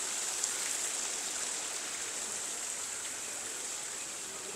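Water flowing in a pond water feature at a zoo park in Kuwait, a steady gentle hiss and trickle that continues evenly, fairly faint and unbroken.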